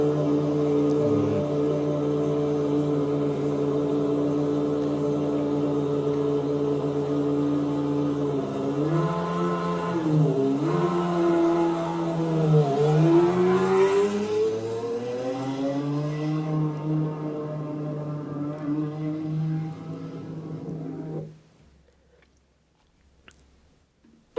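A racing car engine drones with a steady harmonic whine, rising and dipping in pitch as it revs, then cuts out abruptly near the end.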